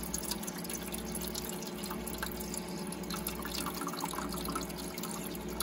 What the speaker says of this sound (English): So it sounds like it is filling up the ice tray.